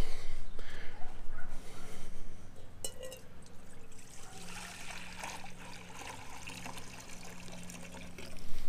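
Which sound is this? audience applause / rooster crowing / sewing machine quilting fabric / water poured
water poured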